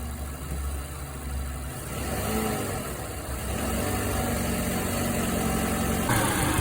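Mazda 6 engine idling steadily close by with a constant hum, a slight load change and rise in level as it is shifted into drive; no talking.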